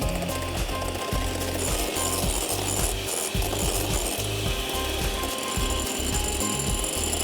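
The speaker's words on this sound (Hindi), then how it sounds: "तब तक मैं सफ़ेदियों को अच्छी तरह बीट कर लेती हूँ।" Egg whites being beaten hard for a cheese soufflé, a loud, steady mechanical whir with a rattling, chattering rhythm that runs unbroken and close throughout, with no speech.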